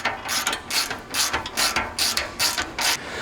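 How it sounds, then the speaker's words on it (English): A ratchet with an 8mm Allen socket clicks in quick, close, repeated bursts while tightening the bolts of a front skid plate on a Ford Bronco. "we're gonna go ahead and start tightening it up. With these, just an 8mm Allen socket here"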